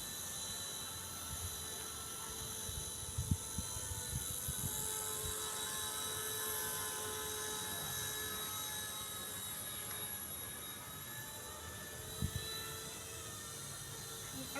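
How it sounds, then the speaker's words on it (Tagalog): An RC ERA Bell 206 model helicopter flies at Filinvest, its rotor and motor making a continuous high whine and buzz that holds steady throughout, with occasional low thumps and no talking. "Ito nang bibiling kong helicopter."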